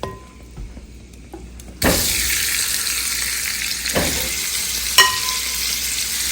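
Oxtails drop back into a hot pot and burst into a loud, steady sizzle that starts abruptly and holds, with a couple of sharper crackling flares, no talking.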